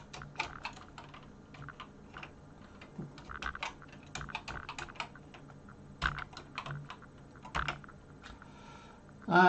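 Typing on the keyboard of a BBC Micro Model B home computer: close, irregular bursts of clacking keystrokes with short pauses between runs, fairly loud and alone.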